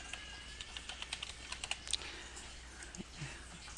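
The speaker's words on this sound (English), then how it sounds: "type in our search box appendectomy" Keys tapped on a computer keyboard while entering a search term, a quick, uneven run of close, crisp clicks over quiet room hiss.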